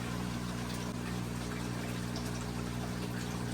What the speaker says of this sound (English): My old pump running right now, and you're gonna see the difference in how long it's taking to fill up.